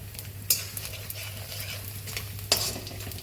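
Edible gum (gund) frying in oil in a pan while halvasan is cooked: a steady soft sizzle under occasional scraping stirs and two sharp metallic clinks of a spoon against the pan.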